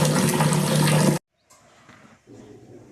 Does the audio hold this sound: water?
yes